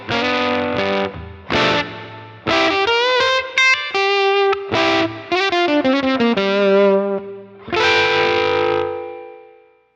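Electric guitar through a tweed-style amp with the volumes pushed for natural breakup, playing a gritty, lightly distorted phrase of picked notes and bends that ends in a ringing, sustained chord, with no voices.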